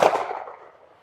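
A shot from a Smith & Wesson Bodyguard 2.0 .380 ACP pistol loaded with 90-grain Hornady Critical Defense rounds, already sounding at the start and fading through a fairly loud echoing tail.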